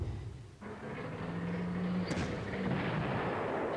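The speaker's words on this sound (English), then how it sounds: "The AI bombarded my victory hex." Artillery bombardment in the video game Panzer Corps, a loud sustained blast and rumbling roar that swells after a brief lull and keeps booming with a sharp crack partway through.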